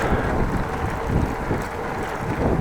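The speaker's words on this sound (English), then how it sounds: "I do have the slightest headwind at the moment" Steady wind buffets the microphone while cycling into a slight headwind, a loud, continuous low rumble with no talking.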